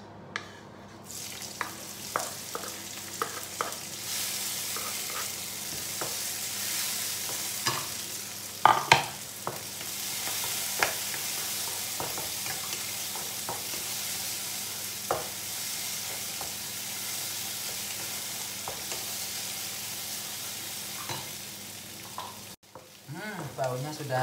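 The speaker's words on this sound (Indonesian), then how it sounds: "Tumis bumbunya." Spice paste sautés in a pan for a soy-sauce eggplant stir-fry: a constant close sizzle with repeated scraping and tapping from a spatula, a brief louder clatter midway, ending in a short pause.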